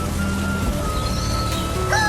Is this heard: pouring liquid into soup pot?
no